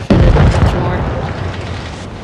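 A Dracula tank fires an Inferno shell in World of Tanks Blitz: a sudden loud, close boom that decays into a long rumbling tail, with a voice talking faintly underneath.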